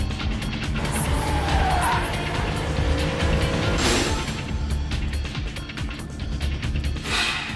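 In an anime about street racing, a tuned car with an L28 twin-turbo engine making 600 horsepower roars nearby. A loud, continuous engine note carries tire squeal and skidding, and brief sharp bursts rise and fall over the clip.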